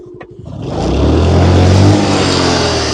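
An off-road vehicle sunk deep in mud on a trail in the Nilgiris revs its engine hard, the roar climbing quickly and holding loud and close with a rough, straining drone.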